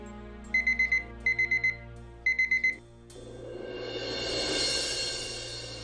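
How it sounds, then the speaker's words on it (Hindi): An alarm clock beeps in three quick bursts of four rapid tones, then a brighter, louder ringing swells and holds to the end. "ये अलार्म किसकी है?"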